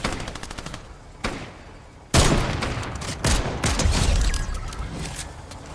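Video game gunfire: a sudden burst of rapid automatic shots, then sustained bursts and booms, loud and close with no talking.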